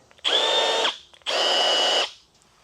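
A Milwaukee Huck bolt gun runs in two loud, close bursts, each a steady high whine lasting under a second, separated by a brief pause, with no talking.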